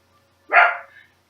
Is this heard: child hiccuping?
no